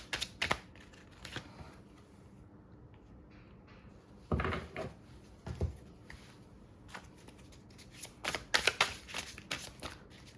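Tarot cards shuffled for a reading, heard as short bursts of papery riffling and tapping scattered across a quiet room, some faint and some crisp and close, with gaps of near silence between.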